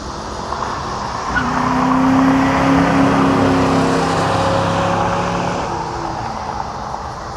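A 1999 Ford Mustang Cobra drives past close by, its engine and tyre noise swelling to a peak and then fading as it moves away.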